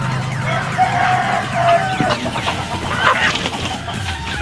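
Several chickens cluck and chatter together nearby as they are fed on a farm, a busy overlapping flock sound with some background noise and no clear speech.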